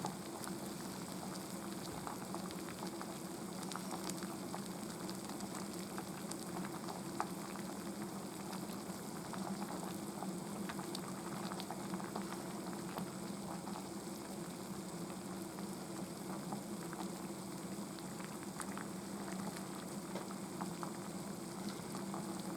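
Miso soup broth with niboshi simmers quietly in a pot, a soft, even bubbling and hiss that runs unbroken and faint throughout, with no voices.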